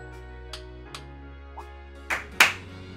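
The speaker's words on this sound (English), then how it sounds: "I like to clap too." A few scattered, sparse claps in the video game Trails of Cold Steel ring out over a soft tonal background, building to two louder, sharper claps near the end.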